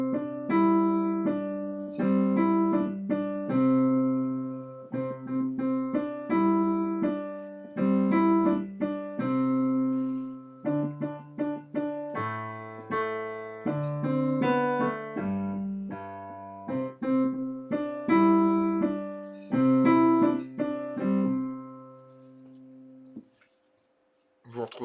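Simplified piano arrangement of Au clair de la lune, a slow, steady melody of clear sustained notes over simple low accompaniment, played alone and close.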